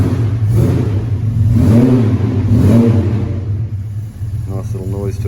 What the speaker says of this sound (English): Nice little noise to her as well. Beautiful car.